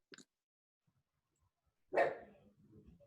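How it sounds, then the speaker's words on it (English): A dog gives one loud, close bark and its tail rings out briefly, following a short faint yelp earlier and near silence in between. "And there's the dog."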